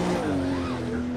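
A 2017 Acura NSX drifting in Project Cars 2, its engine droning steadily while tires squeal in a long sliding whine, loud and close throughout.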